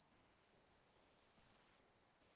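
Crickets chirp in a steady high-pitched trill with small rhythmic pulses, faint and continuous over a quiet background with no voices.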